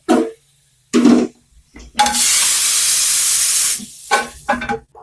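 Hot oil tempering for daal, with chopped garlic added, gives a loud, steady sizzle lasting about two seconds, framed by short bursts of clatter and spitting before and after.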